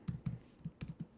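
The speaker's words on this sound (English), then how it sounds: "I'm just going to type it in" Keys tapped on a computer keyboard while entering a reference number in design software, a quick run of about eight close, crisp clicks with uneven spacing and no talking.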